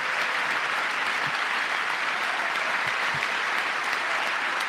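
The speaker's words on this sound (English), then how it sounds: "Gotta clap for that." Sustained applause from an audience during a US presidential address to Congress, dense steady clapping throughout at constant moderate loudness, with no voices over it.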